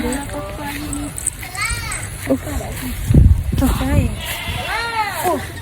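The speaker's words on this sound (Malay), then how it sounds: "Tengok kambing." Goats bleat repeatedly in wavering cries amid children's chatter and splashing, fairly close and loud.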